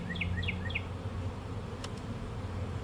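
Honey bees buzz steadily at the front of a hive, a close continuous hum with a few bright chirping sounds early and a brief click partway through.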